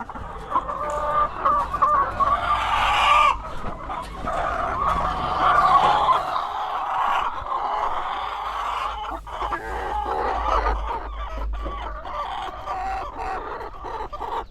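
Chickens cluck and squawk steadily over a loud, continuous motorcycle engine rumble, with the birds close by throughout.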